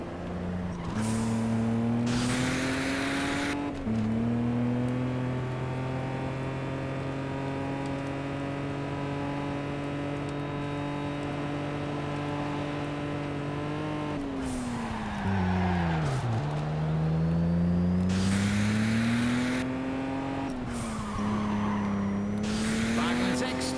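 Race cars in the Juiced 2 video game roar with engine tones rising and falling as they boost, tires squealing, with bursts of noise and a rising whine.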